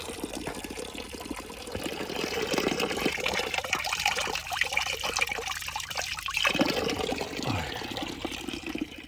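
Water runs steadily from a drinking water tap along a walking route, a continuous close trickle and splash that holds fairly even for several seconds with no talk over it.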